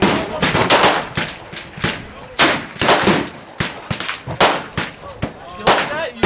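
Rapid gunfire from .38 / .357 magnum revolvers at an outdoor canyon shooting range, many loud overlapping shots that crowd together in quick bursts, close and sharp.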